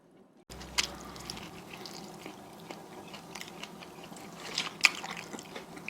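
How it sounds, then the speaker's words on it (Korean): Someone eats Korean pan-fried jeon close to the microphone, giving soft wet bites and chewing with a few sharper crunchy clicks over a quiet background. "오후에 전을 부쳤으니까 아침이 아니라 영상을 안 찍고 이렇게 전 먹는 것만 보여드립니다."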